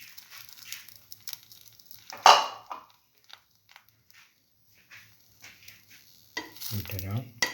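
A bread piece for chili ginger garlic French toast frying in a pan, heard as soft intermittent sizzling with a sharp clatter of utensil on pan and scraping, close and otherwise fairly quiet.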